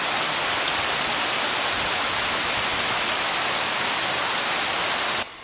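Heavy rain in Guam pours down in a dense, loud, continuous hiss of drops on surfaces, steady throughout before cutting off abruptly at the end.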